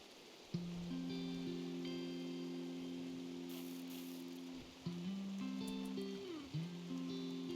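Steady rainfall in the video game RimWorld hisses as an even wash of noise, with sustained tonal game music droning over it throughout.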